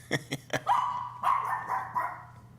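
A pet dog barks during a podcast recording: a few sharp yips followed by longer, whiny barks and vocal grumbles, close to the microphone, with a low steady hum underneath.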